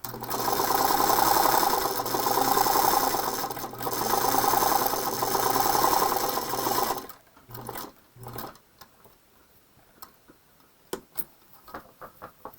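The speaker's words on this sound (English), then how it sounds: "my featherweight's a little noisy" Singer Featherweight sewing machine running noisily, a loud, continuous mechanical whir and rattle with two brief pauses, then stopping abruptly partway through, leaving faint clicks and handling taps.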